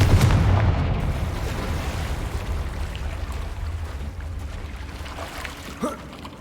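An explosive Confringo spell cast in Hogwarts Legacy: a loud booming blast at the start that decays into a long rumbling tail, with a small thud near the end.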